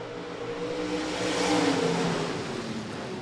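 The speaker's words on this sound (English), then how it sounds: "Third and final heat race, USRA Stock Cars." USRA stock cars roar around the dirt oval at Rapid Speedway in a heat race, a loud, sustained blend of engines revving and surging as the pack passes close by, swelling in the middle and easing off.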